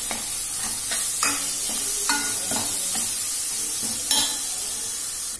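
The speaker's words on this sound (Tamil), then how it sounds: "அதுக்கடுத்தது இந்த அளவுக்கு தேங்காய் பேஸ்ட போட்டு நல்லா வதக்கி விட்டுக்கோங்க" Coconut paste sautéed in a pan for a quail gravy, a steady close sizzle with repeated stirring scrapes at regular intervals and occasional louder clacks of the spoon against the pan, with no talking.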